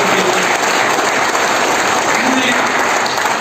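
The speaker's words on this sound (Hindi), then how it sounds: "एक बार जोरदार तालियां हमारे डायरेक्टर" Loud, steady applause from a gathered audience honoring a director at a meeting, dense clapping filling the whole stretch without a break.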